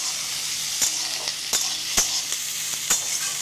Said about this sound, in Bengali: এবার এটাকে আমি ফ্রাই করবো।